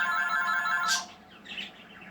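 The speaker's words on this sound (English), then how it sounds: "That's the phone." A telephone rings indoors in a home kept with pet birds, a bright electronic tone followed by a short sharp burst and then a fainter trailing chirp-like sound, with no talking.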